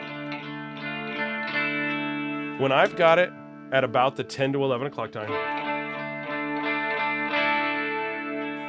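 Sustained electric guitar chords on a clean tone through an LSL OG OD TubeScreamer-style overdrive pedal ring out with mild overdrive, interrupted midway by someone talking, then the guitar continues alone.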